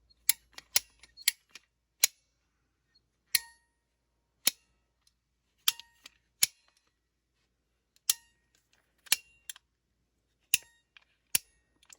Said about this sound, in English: And it's a ratcheting type cutter.